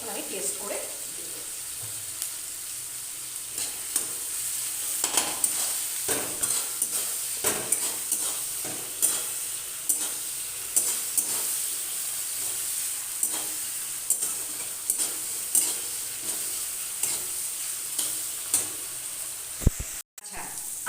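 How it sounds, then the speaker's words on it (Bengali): Onion, tomato and green chillies fry in a pan with a continuous close sizzle, broken by repeated scraping strokes of a stirring utensil against the metal. "পেঁয়াজ টমেটো আর দুটো কাঁচা লঙ্কা দিয়ে আমার ভাজা হয়ে গেছে"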